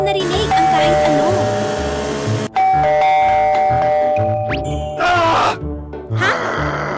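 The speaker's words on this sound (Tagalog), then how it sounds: "Malakas na tumunog ang doorbell sa harap ng bahay." A doorbell at the front of a house rings loudly, sounding a series of bright chime tones that start and stop in bursts, alongside other tonal sounds.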